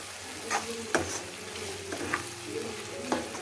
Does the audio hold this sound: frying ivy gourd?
yes